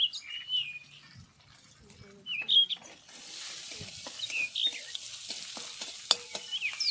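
Ginger and green chilli fry with turmeric in a pan, giving a quiet sizzle with clicks and scrapes of stirring, while birds chirp in the background.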